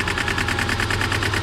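A Subaru engine with a severe misfire runs up close. The loud, rough idle pulses in an uneven, rapid rhythm, with a regular stumbling beat and no one speaking.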